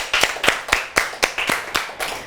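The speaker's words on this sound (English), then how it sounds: "Let's give them a round of applause." A handful of people clap in a steady, sparse rhythm for a children's talent segment. The claps are close and distinct, with no voices.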